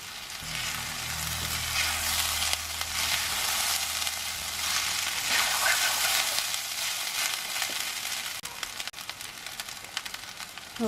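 Cooked rice is stir-fried in a hot pan for prawn fried rice. A steady, loud sizzle holds throughout, with a low hum fading out early on and a few sharp scraping clicks near the end.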